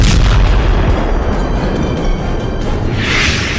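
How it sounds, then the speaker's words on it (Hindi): A drone explodes over the Kremlin, a loud, dense rumbling blast that fills the short clip with heavy low booming and harsh noise and no speech. "क्रेमलिन के ऊपर ड्रोन का धमाका।"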